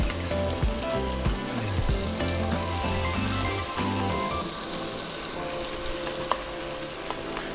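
Tomatoes hiss and sizzle steadily in a hot pan as they go in for a homemade tomato sauce, with a few stirring knocks and spits through the continuous frying noise; no talking.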